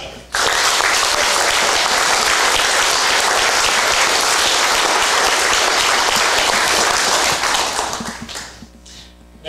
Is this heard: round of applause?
yes